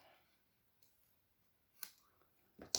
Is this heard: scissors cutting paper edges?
yes